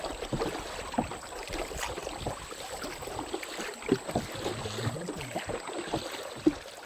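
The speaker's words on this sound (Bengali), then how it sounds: "আমরা কিন্তু নৌকা বেয়ে অনেকটা দূর চলে আসলাম।" Boat rowed along a river creek in the Sundarbans forest where crab lines are set, with irregular splashing oar strokes and water sloshing against the hull, close and moderately loud over steady wind and water ambience.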